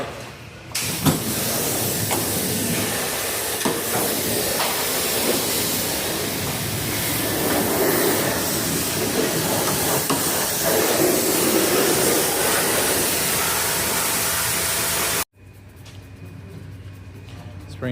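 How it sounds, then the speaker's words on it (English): Engine degreaser sprays onto the grimy engine of a Honda Acty kei truck, a long continuous hissing blast that stops abruptly, followed by quieter background noise. "Spraying some more engine degreaser on there to really get it down."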